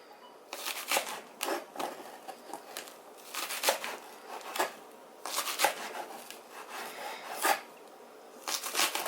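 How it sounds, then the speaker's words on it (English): Green onions with their tops being sliced diagonally with a knife, producing soft crisp crunches and light board taps in an uneven, unhurried rhythm, close and with no voice over them. "I usually cut onions faster than this, but this is not a fast job, especially with those green tops."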